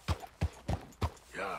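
Four heavy hoof thuds from a horse in Red Dead Redemption 2, evenly spaced about a third of a second apart at a slow walking pace, each one close and distinct, followed by a short tonal bray-like sound at the end.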